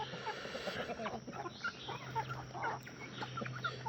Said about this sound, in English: He's the only chicken who attacks me.